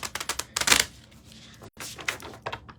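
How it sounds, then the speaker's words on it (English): Tarot cards are shuffled by hand in quick bursts of crisp riffling and flicking, close and fairly loud, with a brief pause before another run of shuffles. "Okay, I shuffled these enough."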